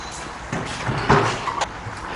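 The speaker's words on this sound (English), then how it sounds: "So both the doors latch." Metal doors on a Kobalt 28-inch garage wall cabinet swing shut and latch, giving a few distinct clicks and thuds close by in a quiet room, with no talking.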